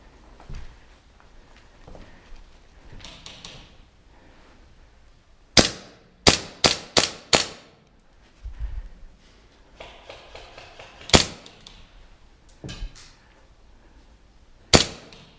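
An airsoft gun fires during an airsoft game, a quick cluster of four or five sharp cracks, then a few more isolated shots spread out, amid quiet background rustling and movement.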